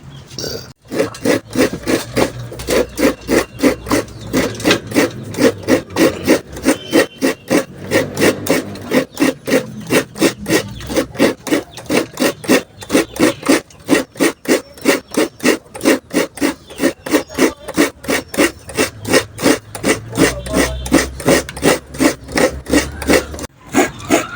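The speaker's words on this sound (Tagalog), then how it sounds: "Ang sarap magkayod." Banana being grated by hand on a scraper, a steady run of quick rasping strokes that repeats evenly and closely for the whole stretch, loud and near with no talking.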